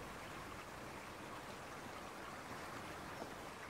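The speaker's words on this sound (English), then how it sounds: "And the water's racing in now," Tidal water rushing in on the River Wye beneath a stone bridge completed in 1816, a steady broadband roar of flowing water, continuous and even throughout with no voices.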